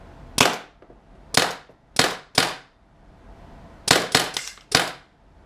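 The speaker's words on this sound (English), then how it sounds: "let's empty the 5 mags of shots" A Tippmann TIPX paintball marker fires eight sharp, loud cracking shots, spaced singly at first and then in a quick burst of three followed by one more, with quiet gaps between.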